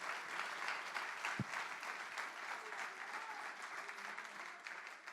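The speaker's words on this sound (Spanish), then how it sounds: "dale ese aplauso fuerte a Cristo" A church congregation claps loudly and continuously at a Christian service, a broad, dense wash of applause that stays steady from start to finish.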